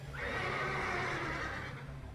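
A single drawn-out horse whinny from the PS1 video game Parasite Eve 2, fairly faint and heard alone, rising and wavering for about two seconds.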